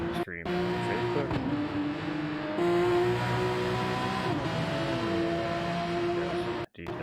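Race car engine in a Porsche racing video game, revving loudly and steadily with pitch sweeps as it accelerates and shifts, nearly continuous for about seven seconds with a brief cut near the end.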